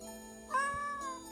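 A cat in the Misao video game lets out a single clear, drawn-out meow, close and alone over a faint steady background tone.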